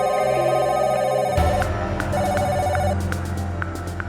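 A telephone rings in a Hindi TV drama scene, a repeating electronic ringtone sounding loud and close over background music for several seconds.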